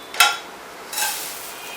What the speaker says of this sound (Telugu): తర్వాత అటుకులు వేపుకుందాం.